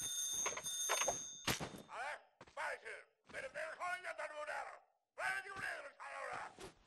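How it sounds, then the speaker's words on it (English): The Nanner Ringer emote from the video game Fortnite plays as a string of bright, voice-like ringing phrases separated by short pauses, loud and alone. "It's called the Nanner Ringer and it sounds like this in-game."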